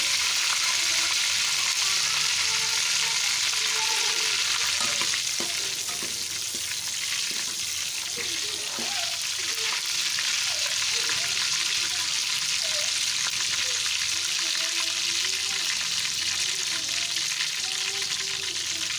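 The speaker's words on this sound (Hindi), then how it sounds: "इसको थोड़ी देर के लिए हम फ्राई कर लेंगे ताकि इसका" Potatoes and taro (arbi) fry in hot oil with a steady, dense sizzle and crackle throughout, close and loud, with occasional stirring scrapes and no talk.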